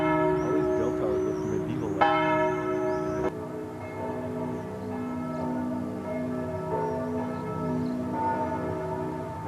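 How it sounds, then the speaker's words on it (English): Church bells ring out over the rooftops of Florence, Italy, with full, sustained, overlapping peals, a sharp new strike partway through, and a humming resonance that lingers at moderate distance. "And the bells add to the charm"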